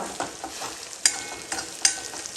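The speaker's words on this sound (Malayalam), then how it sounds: "ഒന്നും കൂടി നന്നായിട്ട് ഫ്രൈ ആവാനുണ്ട് കേട്ടോ" Chilli chicken frying in a modest amount of oil gives a soft, steady sizzle, punctuated by a few sharp clicks and taps of a utensil against the pan.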